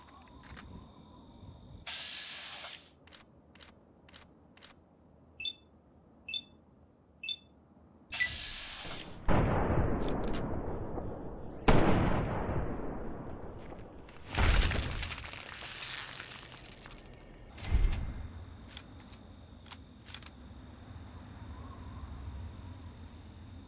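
Sharp, loud gunshot bursts crack out at irregular intervals in the video game Fallout 3, some followed by ringing decay, with short quiet gaps between shots.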